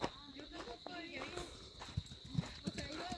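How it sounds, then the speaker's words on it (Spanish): Donkeys' hooves clop along a path as they are led out to pasture in the countryside. Steady, uneven hoofbeats run through the whole stretch under people talking and a constant high background tone. "Ya lleva a pastorear los burros, ya se los lleva a su casa."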